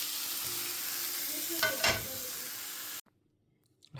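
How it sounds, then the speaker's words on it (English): Chicken breast sizzles steadily in a hot pan, a dense frying hiss with a brief louder flare of stirring partway through, then the sound cuts off abruptly into near silence. "Just steam your veg and then cook your chicken breast."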